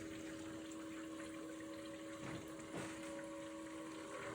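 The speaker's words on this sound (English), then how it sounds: "Pump is running, that's a good sign." Steady electric pump in a PC watercooling loop for an AMD Threadripper 3960X build with a large radiator, droning continuously with a constant tonal hum while coolant is added, a faint trickle and bubbling underneath.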